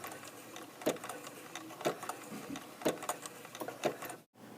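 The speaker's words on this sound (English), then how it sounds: "set your machine to zigzag and manipulate the width of your stitch so that it fits into the holes of your button" Home sewing machine zigzag-stitching back and forth to attach a button through its holes, a soft steady whirring with regular louder needle thumps about once per second, quiet and close, ending abruptly.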